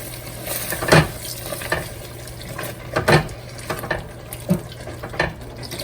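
Chicken stock mixed with cornflour poured a little at a time into a pan, liquid splashing and bubbling with a few louder sloshes and stirring knocks, close and steady.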